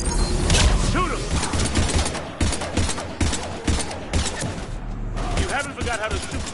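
Gunfire in the video game Mass Effect 3 rattles in dense, close bursts of shots and thumps through a chaotic firefight, with loud impacts layered throughout and a few short lulls.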